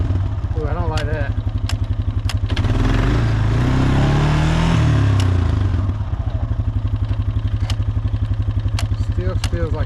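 A Honda Foreman ATV engine runs close by on a test ride, a steady thumping idle that swells into a rev and settles back again, with a few clicks and rattles over it.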